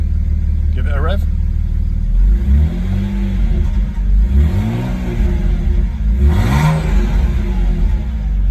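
A BMW Z4 E89 35i engine, running rough with a misfire on a cold start, revs up three times in rising swells over a loud idle rumble, with voices talking nearby.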